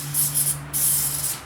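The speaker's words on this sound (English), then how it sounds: "I'm going to spray a little engine start" Engine starting fluid sprayed from an aerosol can into a 1977 MTD 990 mower engine that will not start, two close hissing bursts separated by a short pause, over a faint low hum.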